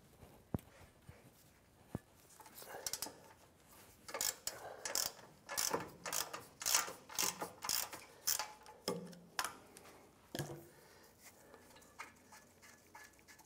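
Ratcheting and wrench clicks come from loosening the upper brake caliper bracket bolt on a 2015-2020 Cadillac Escalade, a rapid run of metallic clicks in bursts from about four to eleven seconds, close and fairly loud, with no talk.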